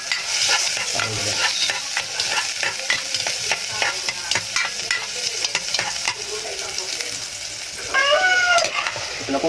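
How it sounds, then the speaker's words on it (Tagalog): Onion and ginger sizzle in hot oil in a cooking pot, a crackling fry broken by repeated scraping stirs, with a voice speaking briefly near the end. "So ilalagay natin ito ng sibuyas sa kaluya guys dito sa kaldero."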